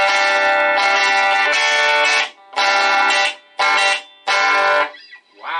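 Harsh, buzzy distorted guitar chords from a Mega Amp VL-10 guitar amp ring out in several loud bursts separated by short silences, the tone gritty and breaking up.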